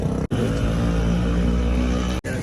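A motorcycle engine runs in a dense, steady drone with strong low harmonics, close and loud, broken by two brief near-silent gaps where the sound cuts out.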